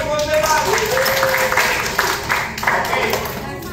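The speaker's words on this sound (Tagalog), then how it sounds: "Okay, palakpak sa gold medal." Applause for gold medal winners at a ceremony, steady clapping from a group throughout, with voices talking over it.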